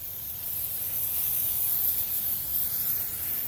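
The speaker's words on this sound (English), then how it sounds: "just spray our cleaner right in" A steady hissing spray of cleaner from a spray bottle onto an engine, running continuously for several seconds at close range, with no voices.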